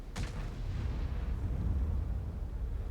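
A single heavy tank cannon shot booms out in a video game battle, a sharp blast followed by a rumbling tail that fades under steady low background noise.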